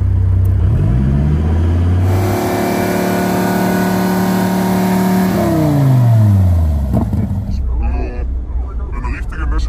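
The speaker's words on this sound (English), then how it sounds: "So we have to check the noise of the car really quick." A sports car's engine revs up and down in rising and falling sweeps, loud and close at a car event at Wörthersee, with people talking around it.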